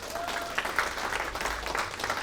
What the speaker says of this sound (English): Y'all give a round of applause for my boss.